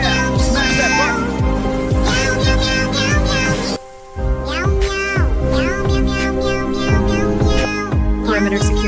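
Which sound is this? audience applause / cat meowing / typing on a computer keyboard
cat meowing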